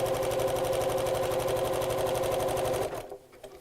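A sewing machine stitching elastic onto fabric runs at a steady, rapid needle pace, close and loud, then stops abruptly near the end, leaving near silence.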